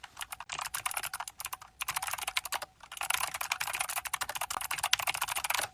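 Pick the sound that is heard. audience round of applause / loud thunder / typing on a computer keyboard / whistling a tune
typing on a computer keyboard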